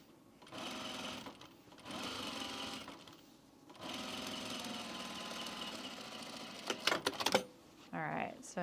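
A sewing machine stitches men's pants in three sustained whirring runs separated by pauses, followed by a few short clattering bursts and then a brief voice at the end.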